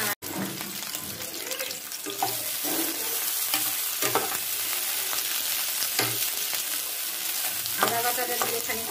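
Ginger paste and Malabar spinach stirred in a hot pan, a wet sizzling hiss with repeated scraping strokes of the spoon, fairly close and continuous, with a brief clatter at the start.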